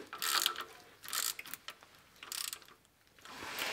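A ratchet clicks in short bursts while tightening transmission pan bolts, each burst a quick rattle of pawl clicks separated by brief pauses, close and fairly quiet.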